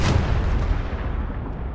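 A tank cannon in Gates of Hell Ostfront fires a single heavy boom at the start, its low rumble rolling and decaying over the following second or so.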